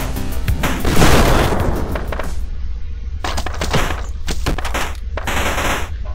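Light machine gun fire in the Superfighters Deluxe video game: loud, rapid sustained bursts of automatic shots crackle close by, broken by brief pauses before more volleys follow.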